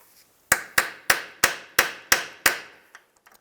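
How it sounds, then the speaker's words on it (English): A hammer taps a bolt on a 1999-2005 Volkswagen Jetta radiator fan assembly to free the part, seven sharp metallic strikes in an even rhythm, close and loud, followed by a few faint clinks. "just use a hammer and tap it so you can separate that"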